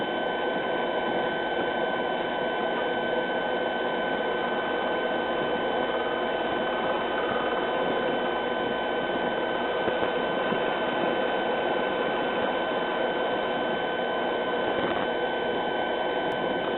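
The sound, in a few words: wood lathe turning a three-legged stool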